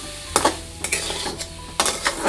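Koorka masala stir-fry in a pan over a low flame, stirred with a utensil that scrapes and clatters against the metal in short bursts, close and fairly loud, with a faint sizzle underneath.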